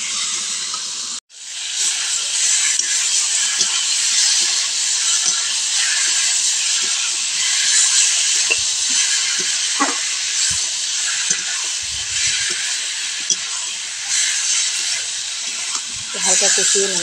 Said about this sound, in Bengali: লঙ্কা বাটা ভালো করে কষিয়ে নেব